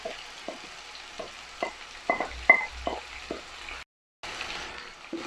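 Onions frying in oil with cumin seed for a cod fish curry, a soft steady sizzle broken by several sharp scraping stirs in an uneven rhythm, close by, with a brief dropout near the end.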